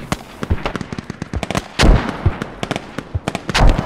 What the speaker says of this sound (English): Rounds on target, right one degree, fire for effect.